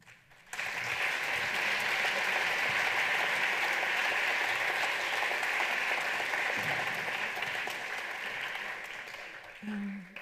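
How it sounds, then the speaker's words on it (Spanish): An awards gala crowd breaks into loud, sustained applause that holds steady for several seconds before tapering slightly near the end. "esto se merece una enhorabuena y un fuerte aplauso"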